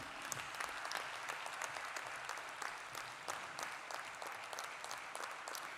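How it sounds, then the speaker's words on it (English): An audience at a university graduation ceremony claps in sustained, even applause, a dense wash of many hands heard from a distance. "please give a big round of applause for all our gold medalists"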